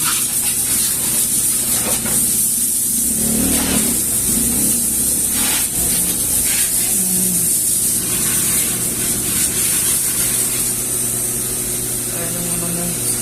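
A coin-operated helmet cleaning vending machine sprays loudly, a steady, close hiss lasting throughout, with a voice talking faintly beneath it.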